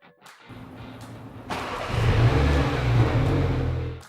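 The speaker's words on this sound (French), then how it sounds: "en un rien de temps, le moteur de votre Mini est allumé et vous êtes prêt à partir." A MINI three-door car's engine starts by remote starter: a short crank, then the motor catches and rises into a steady, throaty idle that swells slightly before settling, heard close with no talk.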